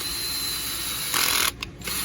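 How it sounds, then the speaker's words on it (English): A cordless drill with its torque clutch set drives a bolt down tapped holes in a machine being cleaned of EDM mud, whirring steadily before a brief louder burst and a few quick clicking stutters as the clutch slips. "take out my drill, stick a bolt in there"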